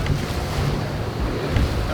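Boat ride on the open sea near Abu Galum, Dahab, Egypt, with heavy wind buffeting the microphone and the rush of high waves against the hull, a loud, continuous roar with no voices.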